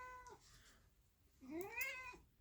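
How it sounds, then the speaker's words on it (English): A cat meows twice, a short call followed by a longer rising and falling meow, close and clear against a quiet background. "You heard the cat."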